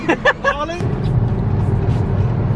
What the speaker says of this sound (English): I'm gonna do a ricer flyby.